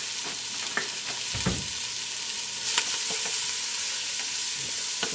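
Chopped leeks, the white and light green parts, sizzle steadily in oil for a thick spring lamb soup, with a few louder scrapes and clatters as a utensil pushes them around the pan.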